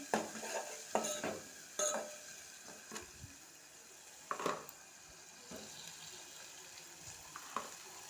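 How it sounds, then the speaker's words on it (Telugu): A spoon scrapes and knocks in a pot as turmeric and salt are mixed into brinjal tomato curry. It comes as quiet, scattered clinks and stirring strokes over a low background hiss. "అలాగే పసుపు ఇలా వేసుకొని టోటల్గా కలిపేసుకోవాలి"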